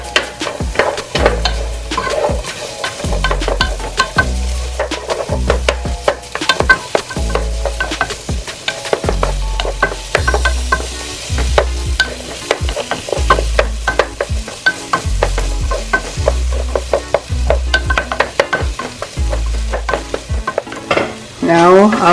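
Ingredients sautéing in a pan ahead of Jamaican callaloo, with a steady sizzle and repeated scraping stirs in a regular rhythm, close and fairly loud with no talking.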